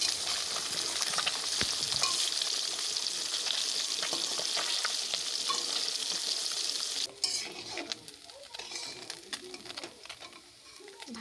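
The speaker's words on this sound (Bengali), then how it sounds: "মাছগুলোকে এক এক করে সব কড়াই দিয়ে ভালো করে লাল লাল করে ভেজে নিতে হবে" Amudi fish frying in hot oil in a wok make a loud, steady crackling sizzle that eases and thins out partway through, with faint cooing in the background and no talk.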